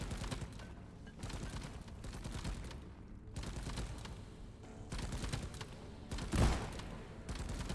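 Rapid weapon fire in Deep Rock Galactic, bursts of dense shooting in repeated stretches with short pauses between, a heavier thump near the end, fairly quiet overall.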